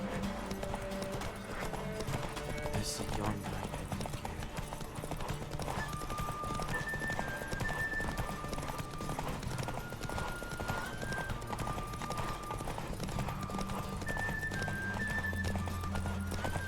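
Horse hooves clip-clop steadily while riding in The Witcher 3 on PS5, a continuous rhythmic trot under game music with occasional whinnies and some talk.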